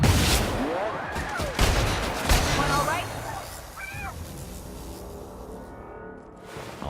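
Gunfire bursts in The Outer Worlds, sharp shots crackling loudly over a busy game mix in the first few seconds, with voices calling out in between before things settle.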